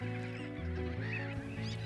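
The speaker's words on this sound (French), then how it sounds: "on peut rencontrer des espèces différentes, comme ici, ces mouettes rieuses qui côtoient les goélands railleurs" A lagoon breeding colony of black-headed gulls alongside slender-billed gulls gives harsh, honking calls that overlap continuously at moderate loudness.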